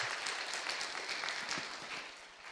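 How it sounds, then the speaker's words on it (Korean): A church congregation claps together during a Sunday worship service, a sustained wash of many hands that fades gradually over a few seconds. "하나님께는 영광의 박수를 한번 올려드릴까요?"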